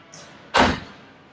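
A single solid thump as a storage bay door on a late-model luxury RV swings closed, near and brief, with a short rattle fading after it.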